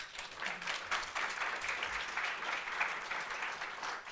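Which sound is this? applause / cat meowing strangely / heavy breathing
applause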